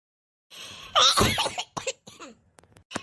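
A person coughs harshly, then clears the throat with a few shorter rasping hacks, close up with quiet before and after.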